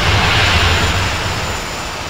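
A KLM Boeing 737-800 jet landing at Ajaccio, Corsica: a loud, broad roar of jet engines and rushing air, steady and then slowly easing off.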